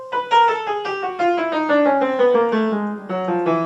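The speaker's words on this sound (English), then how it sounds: "we have a chromatic scale that sounds like this" A chromatic scale is played steadily downward through an octave, each semitone a distinct, evenly spaced sustained note, clear and close with no voices.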